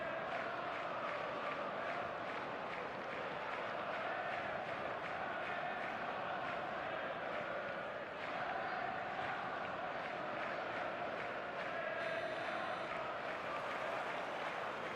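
Stadium crowd noise in the eFootball Mobile video game, a constant roaring wash of fans with swelling chants and cheers, faint and distant under the match atmosphere, while a voice talks.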